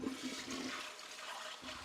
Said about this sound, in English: Toilet has been flushed.